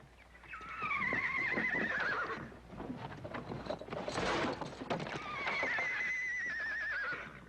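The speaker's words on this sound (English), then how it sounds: "Horse I traded Harry Dixon for." A horse whinnies loudly twice, near and shrill, with soft hoof clops and movement between the two calls.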